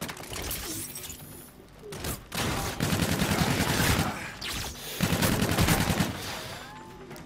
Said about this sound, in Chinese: 还可以这样腰射